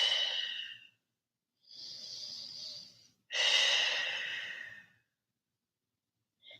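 Slow, deep breathing during a vinyasa yoga pose: three drawn-out airy breaths, close and soft, separated by brief pauses, with the last exhale the strongest and no talking over them.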